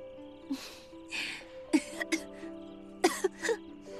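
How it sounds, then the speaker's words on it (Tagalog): Several short, sharp coughs and throat-clearing bursts come in small clusters over a faint steady hum, close and fairly quiet. "Kita mo na, inuubo ka na naman."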